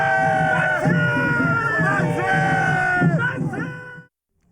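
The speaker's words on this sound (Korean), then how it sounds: "독립을 외치는 커다란 함성이 아산 선장면에 울려 퍼집니다" A large crowd shouts independence cheers at a reenactment of the 1919 Asan independence movement in Seonjang-myeon, a dense, loud roar of many voices with rhythmic surges of yelling that stops abruptly near the end.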